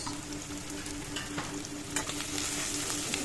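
Ground turmeric, chili and cumin fry in hot oil while a spoon stirs them, giving a dense, close sizzle with scraping strokes throughout and no talking.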